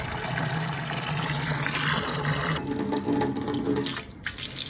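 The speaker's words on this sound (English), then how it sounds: "Just giving it a second rinse down." Running water rinses leftover hops off home-brewing equipment into a bucket, a steady close gushing tap flow that continues without a break, dipping briefly near the end and then resuming, with no talking.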